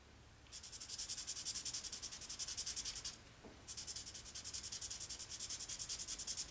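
A wide chisel-tip marker rubs back and forth across a page while colouring fur. The strokes are rapid and rhythmic and sound close, with one short pause in the middle.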